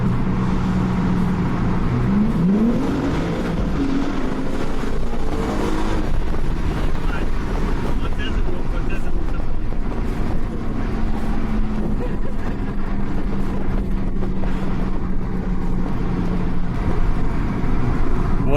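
A BMW M4 G82 tuned to stage 2 with a custom chip hums and builds under acceleration, a steady engine drone mixed with wind buffeting and faint talk, with a rising tone early on.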